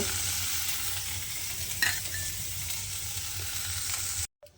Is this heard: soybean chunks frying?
yes